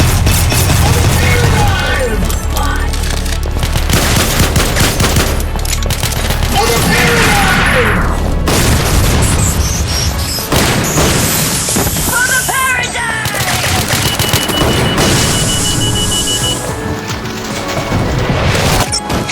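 Dense, loud video-game gunfire fills the whole stretch, with heavy bursts of shots and crashing impacts layered thickly together, close and continuous, without any voices.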